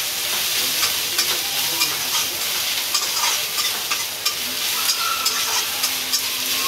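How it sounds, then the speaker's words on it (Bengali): Onions frying in oil with ginger and garlic crackle and sizzle loudly, with repeated scraping stirs of a spoon in the pan, close up and without talk. "পেঁয়াজ দেওয়ার পরে তেলটা খেয়ে গেছে, তেলটা টেনে গেছে একদম।"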